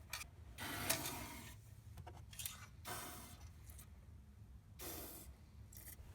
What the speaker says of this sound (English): Here's a good way to spray inside the door jamb.